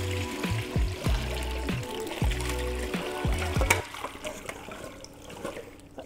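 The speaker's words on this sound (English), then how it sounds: "Drain the water." Water drains from a pot of potatoes being prepared for fries: a few heavy gushing pours and splashes come first, then a thinner trickle and dribble that fades away.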